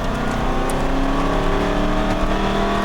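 An Aston Martin V8 Vantage accelerates hard on a race track, its engine a loud, continuous, steady drone with a rising tone, heard from inside the car.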